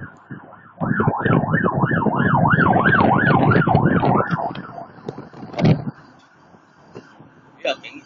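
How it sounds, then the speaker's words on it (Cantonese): A police car siren wails loudly in fast, regular up-and-down sweeps for a few seconds, then cuts off, leaving traffic noise and a few brief bursts. "呢個警車喎"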